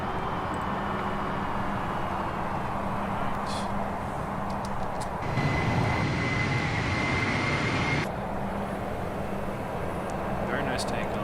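An Embraer E175 takes off in the X-Plane flight simulator, its jet engines making a steady loud roar that swells midway, with a voice talking over it.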